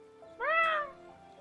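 A single cat meow in the video game Master Detective Archives: Rain Code, one clear rising-and-falling call, close and fairly loud, over a quiet background hum.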